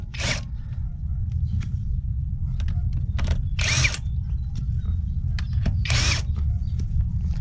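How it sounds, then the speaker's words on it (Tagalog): Cordless impact wrench removing a wheel from a Honda Civic, three loud, short whirring bursts spaced a couple of seconds apart over a constant low hum, with faint ticks between them. "Lakas ng bago kong impact."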